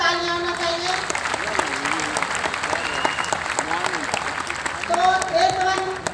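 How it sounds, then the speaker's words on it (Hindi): Applause from an audience at a motivational event in Bhubaneswar, a steady wash of clapping for about six seconds, with a presenter's voice speaking over it in places. "तो चलिए आप लोगों के लिए जबरदस्त तालियां होना चाहिए।"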